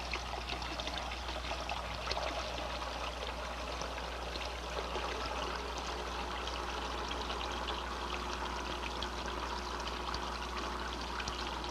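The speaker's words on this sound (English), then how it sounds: "I'll reduce the volume flow at successive sections by bleeding water from the manifold" Water bleeds steadily from a manifold in a fluid-flow demonstration, a continuous trickling, pouring stream heard close and even, over a low steady hum, with no talking.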